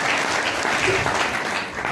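A large seated crowd at a Sunday AWPL Ayurveda business meeting in Mainpuri claps loudly and continuously, a close, thick burst of applause with no voices over it.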